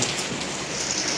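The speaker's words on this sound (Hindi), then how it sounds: "बाहर कितनी तेज बारिश हो रही है," Heavy rain pours outside in a dense, steady hiss of drops striking surfaces, loud and unbroken over a brief moment.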